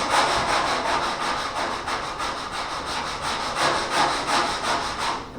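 Steady rhythmic rasping of a sanding block stroking back and forth across metal, close up, with no voices.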